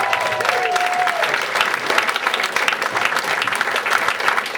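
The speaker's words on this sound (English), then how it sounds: "Give them a big round of applause" An audience at a hypnotist stage show in a football club breaks into dense, continuous applause, loud and steady clapping from start to finish.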